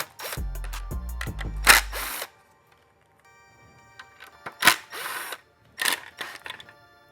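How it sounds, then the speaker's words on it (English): A power tool removes screws from the back of a Mitsubishi EVO X headlight, with several short whirring bursts close by, a pause, then quieter clicks and brief runs. "we're just gonna take the screws off the back of this guy"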